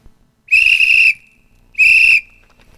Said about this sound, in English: This is a military P-type whistle.